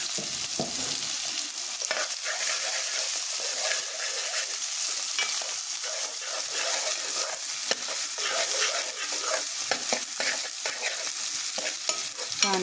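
Onion frying in a hot cumin and mustard seed tempering for sambar, a steady loud sizzle with scraping stirring strokes throughout, close up with no talking.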